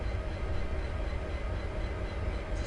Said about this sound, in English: I'm going to slow my train down now actually